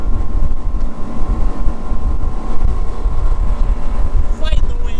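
Strong wind buffets the microphone aboard a Bennington 2550 TriToon pontoon boat running at speed with a 250 Mercury outboard, with a steady engine drone beneath the roaring gusts and a brief voice near the end.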